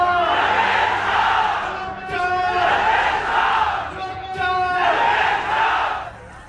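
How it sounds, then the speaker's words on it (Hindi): At a Tejashwi Yadav election rally in Bihar, a large crowd loudly chants slogans in repeated rhythmic bursts, three rising and falling waves of massed voices. "चुनावी सभा के अंत में भीड़ से जोर शोर से नारे लगवाते हैं"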